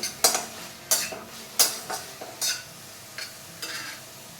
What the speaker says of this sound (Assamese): মই গোটেইখিনি ভালদৰে লৰাই দিছোঁ।